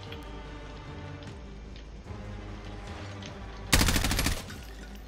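Video game gunfire: a loud burst of rapid automatic shots lasting under a second, rising abruptly over a steady low game background hum with no talk.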